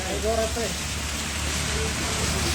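Steady heavy rain falls, likely onto a car windshield, making a dense, continuous hiss throughout while voices talk briefly over it near the start.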